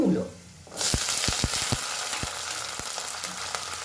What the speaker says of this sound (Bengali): মূলোটা দিয়েও একটু নাড়াচাড়া করে নেব